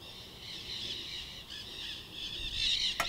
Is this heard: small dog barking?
no